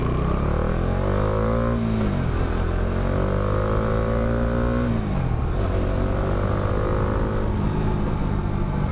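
A Bajaj Dominar 400 motorcycle is ridden, its engine droning loud and close with rising revs that drop sharply at gear changes, then climb again, under continuous wind noise.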